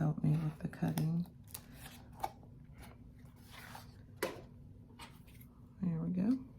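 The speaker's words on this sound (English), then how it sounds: "Let me see if I can manually cut some of that off." Paper being cut by hand with scissors while trimming a Kokuyo planner cover: soft snipping and rustling up close, with a person talking at times.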